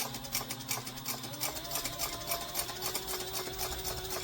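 Sewing machine stitching a bucket bag, a fast rhythmic mechanical whir with regular needle ticks, close and fairly quiet, no voices.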